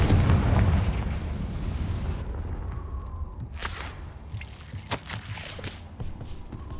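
Confringo fire spell explosions in Hogwarts Legacy: a heavy booming blast up front, followed by sharper cracks and impacts, with no talk.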